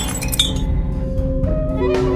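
A drinking glass breaks in a loud shattering crash, followed by ringing shards and tinkling fragments that fade out over about two seconds.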